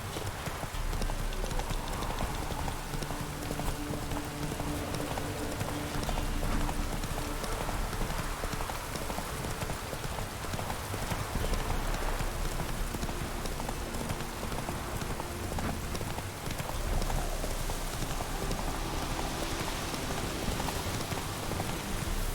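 Roach, the horse in The Witcher 3: Wild Hunt, gallops with steady rapid hoofbeats under dense, continuous rain, loud and close throughout; no talk.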